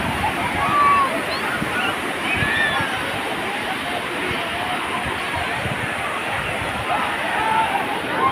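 Sea waves wash in a steady, loud surf near Puri, a continuous rushing wash with soft swells and occasional faint tones, and no clear talk over it.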